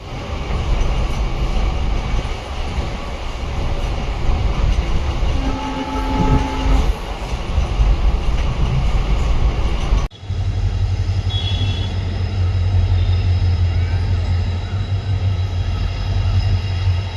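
A passenger train travelling from Chamarajanagar to Mysore makes a steady loud rumble and clatter heard from on board. A horn-like tone sounds midway, and a deeper hum rises after a sudden shift.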